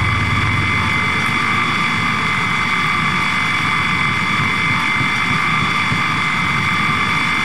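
Loud, constant helicopter engine drone in Battlefield 4 on Xbox One, a dense roaring whine with a steady low rumble and no breaks or speech.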